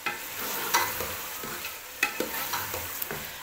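Kachnar buds and chicken fry in a pan with a steady sizzle, while a spoon stirs and scrapes through them in irregular clacks, a few sharper knocks standing out. No one speaks.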